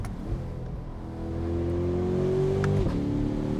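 A Chevrolet C8 Corvette engine revs up steadily under acceleration, then drops pitch sharply at a quick gear shift before pulling again.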